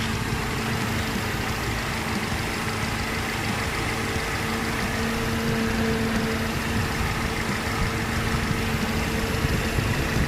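A Peugeot 407 with a 2.0 engine and an aftermarket air filter runs steadily in a constant, close engine hum with a faint low drone underneath, and no voices.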